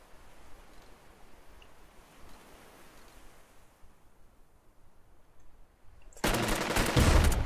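Gunfire erupts abruptly near the end after a quiet ambient stretch in the war strategy video game Burden of Command, a loud dense burst of rapid shots.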